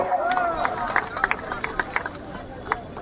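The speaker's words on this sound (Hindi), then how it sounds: "जोरदार तालियों के साथ स्वागत सम्मानित साथियों।" Crowd at a BSP political rally in Hapur claps in scattered, sharp bursts over a murmuring crowd and someone speaking on a loudspeaker.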